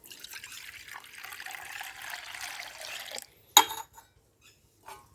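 Water poured from a container into a bowl set out for sparrows at a village home, a steady splashing stream for about three seconds, then a single sharp clink and a few faint drips.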